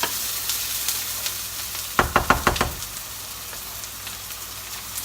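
Beef mince dropping into a hot pan with garlic and onions, giving a burst of loud sizzling with a few knocks around the two-second mark over a steady low frying background.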